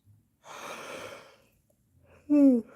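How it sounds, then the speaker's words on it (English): A person yawns with a long, breathy exhale, followed after a pause by a short, higher vocal sigh at the end of the yawn, close and alone in a quiet room. "There's a yawn."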